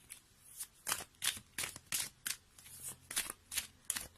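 Tarot cards being handled and shuffled close up, a quick series of soft riffling flicks in an irregular rhythm, quiet and alone.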